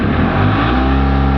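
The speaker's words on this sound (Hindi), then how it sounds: "गाड़ी स्टार्ट" A Mahindra Supro BS6 2022 pickup's engine, which has a low-accelerator fault, turns over and settles into a loud, steady idle with a brief rise in revs, close to the microphone and with no talk over it.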